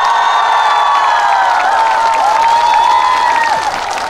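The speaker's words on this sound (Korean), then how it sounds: "박수 한번 주시겠어요?" A large outdoor audience applauds and cheers at a concert during the 2024 Hoengseong Hanwoo beef festival opening ceremony, a dense, steady roar of clapping and voices filling the whole stretch.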